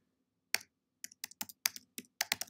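Keys on a computer keyboard clack in a short irregular burst of about ten crisp, close taps, isolated against silence.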